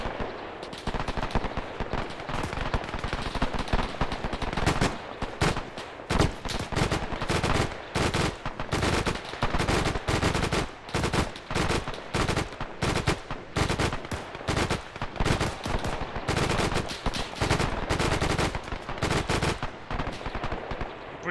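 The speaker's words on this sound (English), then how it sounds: "We're under heavy fire." Heavy gunfire rages in an Arma 3 World War II battle in Italy, 1943, with loud sustained bursts of machine-gun and rifle fire rattling continuously and only brief pauses throughout.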